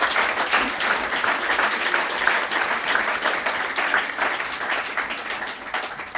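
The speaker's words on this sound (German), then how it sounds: "Applaus" A crowd at a political Ash Wednesday rally in Germany applauds loudly and densely, the steady roar of many hands holding for several seconds and then easing slightly toward the end.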